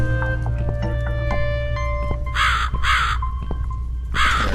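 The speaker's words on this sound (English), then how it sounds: "So let's just follow the crow." Crows caw in repeated harsh bursts, with three loud calls in the second half, in the dark adventure game The Cat Lady, over a steady low ambient drone and scattered tonal game sounds.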